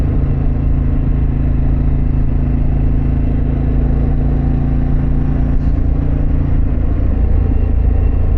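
A Harley-Davidson Pan America motorcycle exhaust produces a steady, loud, low rumble with a constant engine drone throughout while riding, with no voices heard.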